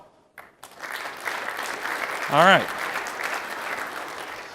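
A conference audience at a renewable fuels summit breaks into sustained applause that builds and holds steady, and someone briefly speaks over the clapping.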